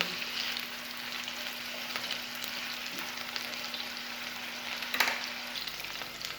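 Chicken malai seekh kebabs sizzle steadily in a pan, a continuous frying hiss with an occasional louder crackle and spatter, close and alone without talk.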